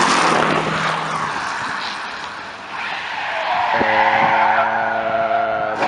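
A drifting JDM car's tires skid and screech loudly through a crash, a broad roaring hiss of rubber and engine that eases mid-clip and then swells again with a steady tonal whine.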